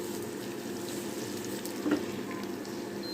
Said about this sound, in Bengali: দিয়ে পেঁয়াজটাকে একটু ভালো করে ভেজে নেব, পেঁয়াজের গন্ধটা চলে যাওয়া পর্যন্ত